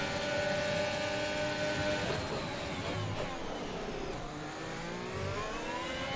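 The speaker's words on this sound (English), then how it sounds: "Give me your slipstream as well. Let's slingshot our way closer to Ricardo" An F1 car engine in the racing game F1 2021 at the Azerbaijan Grand Prix drones steadily and loudly, its pitch sweeping up and down through the gears while slipstreaming another car, with no talk.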